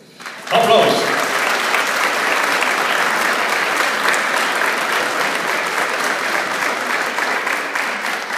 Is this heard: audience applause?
yes